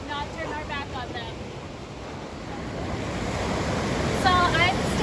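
Ocean surf rolls and breaks against a rocky intertidal shore, a steady broadband wash that swells louder toward the end, with wind buffeting the microphone throughout.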